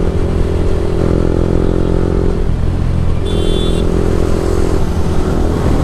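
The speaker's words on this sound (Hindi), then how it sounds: "भाई बोल रहे कि साउंड मस्त निकाल रही है बाइक" A motorcycle engine roars loud and close at a riders' meetup, holding a steady rev with shifts in pitch and a brief high whine partway through.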